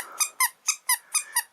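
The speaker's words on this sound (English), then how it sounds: "It's so squeaky." A squeaky otter-shaped toy squeaks six times in quick, evenly spaced high-pitched chirps, close and clear against a quiet background.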